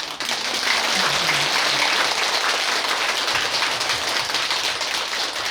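Sustained, dense applause from a crowd at a Buddhist eye-opening ceremony for Buddha and bodhisattva statues at a temple, steady and loud throughout with no voices.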